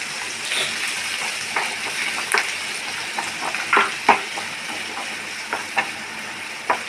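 Finely chopped onions frying in a pan on the stove give a steady, close sizzle, broken by scattered crackles and light stirring clicks, with no voices.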